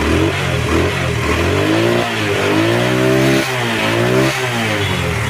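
A Pakistani 80cc motorbike engine in good condition revs loudly and close by, rising and falling in pitch several times, with a steady buzzing idle between the revs.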